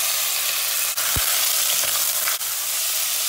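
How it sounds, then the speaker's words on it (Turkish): Meat sizzles steadily in hot oil in a pan on a home stove, with a couple of faint knocks from stirring and no voices. "Tam bu aşamada etimizi boşaltıyoruz."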